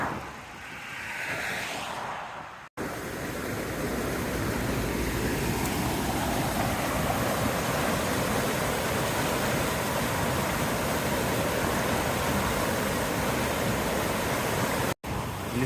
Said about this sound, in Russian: Лесная речка, водопад здесь такой искусственный.